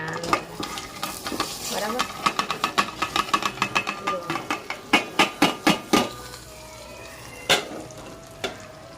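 Hot tempering of curry leaves, sesame seeds and chili poured over Gujarati dhokla, giving a sizzling crackle with a rapid run of sharp spluttering pops that thin out into a few isolated loud cracks.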